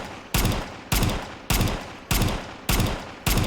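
Shots from a 10mm pipe gun in Fallout 4, six loud, evenly spaced gunshots, each a sharp blast with a short decaying tail, with no voices.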